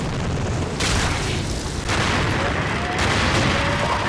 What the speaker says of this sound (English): keep the minigun spooled up. Fire in burst